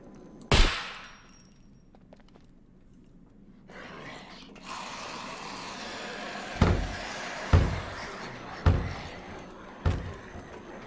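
Gunshots in the survival game SCUM inside a bunker: one sharp close shot, then after a pause a series of four evenly spaced loud reports over a low ambient rumble.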